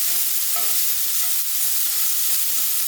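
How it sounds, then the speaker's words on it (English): Onion with an Italian seasoning blend sizzles in a frying pan during a brief stir with a metal fork, making a steady, loud frying hiss with a few faint scraping touches. "That's a quick little stir."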